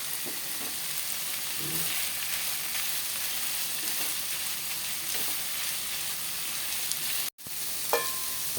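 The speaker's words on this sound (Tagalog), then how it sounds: "Pwede na po natin itabog itong yung tahori natin. Kasama na rin po natin sa gisa." Milkfish and fermented soybean curd sauté in a hot pan, giving a steady, dense sizzle across the whole stretch, with a brief drop near the end followed by a small clink.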